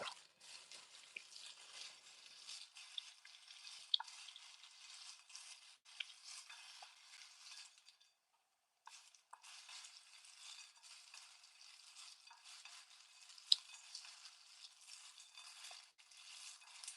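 Soft scraping and clinking of Chex mix being stirred in a microwave-safe dish, steady and close, with a brief pause midway and no voices.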